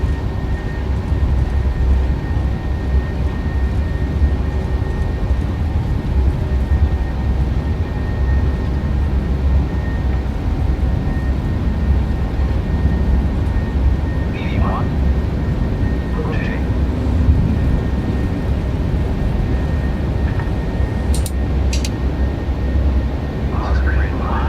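Jet engines of a PMDG 737 in a flight simulator spooled to takeoff thrust: a loud, steady, unbroken roar and rumble throughout, with faint voices underneath.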